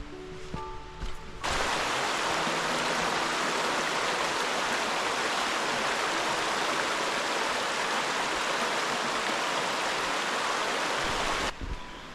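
The River Brock flowing, a loud, steady rushing wash of water heard close by for about ten seconds, with quieter outdoor ambience briefly before and after.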